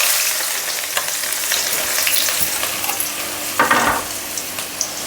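Thinly sliced onions sizzle and crackle in hot oil in a pan for grilled chicken, with a steady close hiss, small pops and a louder stir burst near the end.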